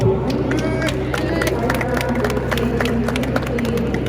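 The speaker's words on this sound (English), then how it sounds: "give a big round of applause" Crowd clapping for a charity donation at a Sporting Bears event, dense sharp applause across a room with a murmuring crowd and some voices underneath, loud and continuous.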